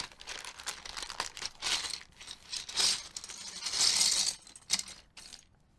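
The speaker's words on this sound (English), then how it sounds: "We're just mounting these keycaps." Keycaps are pressed onto a keyboard one after another, giving close plasticky clacks, rattles and crinkly handling noises in uneven bursts that end in a short quiet tail.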